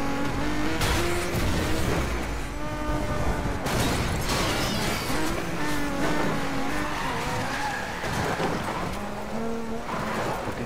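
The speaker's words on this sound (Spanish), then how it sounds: "el que conduce Alejo T3 es un Nissan Skyline" A Nissan Skyline racing in the video game Need for Speed Most Wanted, a loud continuous engine roar with rising and falling revs, gear shifts and repeated tire squeals and skids, alone without talking.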